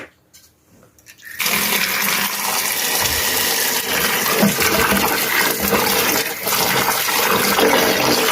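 After a brief quiet moment, running water gushes steadily and loudly, splashing continuously as pieces of elephant-foot yam are rinsed under it.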